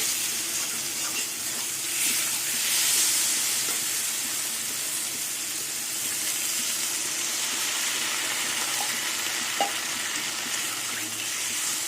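Water poured into spiced masala frying for a puti fish curry, giving a steady broad sizzle and hiss of steam throughout, loud and close with no talking.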